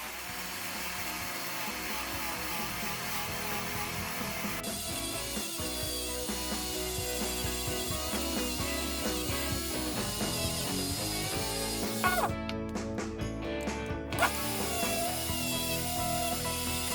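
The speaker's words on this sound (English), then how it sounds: "Now I'm just gonna polish the axles, get rid of all the rust." The rusty axles of a Matchbox Austin A50 toy car are polished with a power tool, giving a continuous, fairly quiet grinding whir with a few brief scraping and tapping touches along the way.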